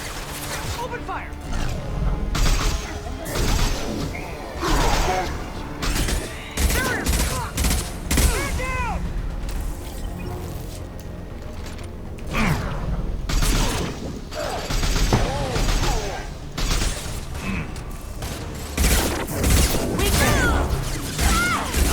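Sustained weapon fire in Mass Effect 2 combat, with bursts of shots and crashes layered under game voices throughout, dense and loud with brief lulls.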